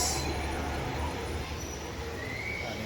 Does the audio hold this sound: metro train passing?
yes